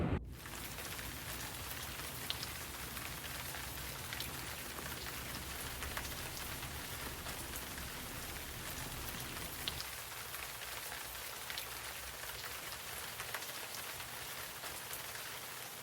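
Steady rain falls and patters on surfaces outside, a constant soft hiss with no voices, holding at an even level throughout.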